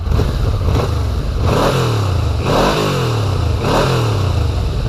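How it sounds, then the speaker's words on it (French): A dragster-style street motorcycle with a Harley-like twin engine, slightly out of tune and struggling to rev, roars loudly and close by, rising in three or four repeated revving surges over a steady throaty idle, with no talking. "On a presque l'impression d'être sur un twin de chez Harley qui a un peu du mal à prendre ses tours"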